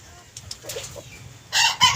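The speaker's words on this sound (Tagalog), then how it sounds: "Yan ang uso ngayon ng manok." Golden Boy chickens in a Filipino chicken yard give soft clucks, then a loud, close crow bursts in near the end of the short stretch.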